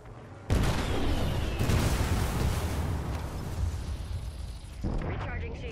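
Heavy gunfire and explosive bursts in the game Apex Legends, a loud, dense barrage that starts abruptly and rumbles on, briefly easing near the end before resuming.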